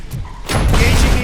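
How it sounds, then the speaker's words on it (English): A grenade blast in RoboCop: Rogue City, a sudden loud booming burst that erupts after a quiet moment and rumbles on with crackling debris. "Grenade out!"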